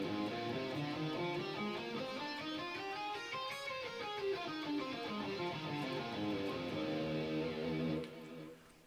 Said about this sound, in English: a major scale will look and sound like this.